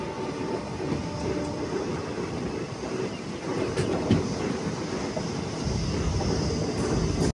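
A train on the railway line rumbles past, heard from aboard the Andaman Express near Nellore: continuous rolling wheel noise and clattering carriages, steady and fairly close, with no voices.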